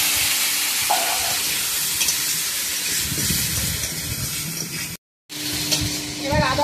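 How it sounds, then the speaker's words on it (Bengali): Potato pieces frying in hot oil produce a continuous hissing sizzle with stirring movements, close and fairly loud, interrupted once by a short silent gap before the frying resumes. "এই আলুগুলো, আলুটা প্রথমে ভালো মতো ভেজে নেব"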